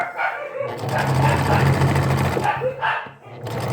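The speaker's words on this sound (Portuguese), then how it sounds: "Meus cachorrinhos estão latindo." Small dogs bark in a few short yaps from nearby while a sewing machine runs loudly underneath, with some talk mixed in.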